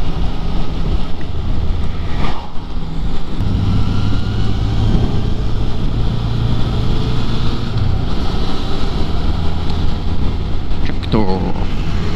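Steady wind rush and buffeting roar over a droning Yamaha XSR900 motorcycle engine hum, heard while riding, loud and continuous throughout, with a brief voice in the middle.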